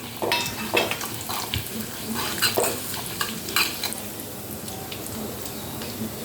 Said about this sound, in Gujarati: જો આ જીરું તતડવા માંડ્યું છે